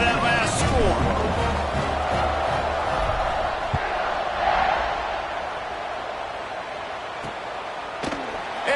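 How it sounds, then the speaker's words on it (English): Football stadium crowd buzzing after a score, a broad sustained roar of many voices filling the space, slowly easing in level. A commentator talks over it. "this crowd is buzzing after that last score"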